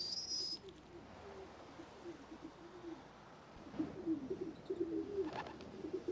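City pigeons coo softly and repeatedly in low, throaty bursts at moderate distance, over faint outdoor ambience with a brief high chirp near the start.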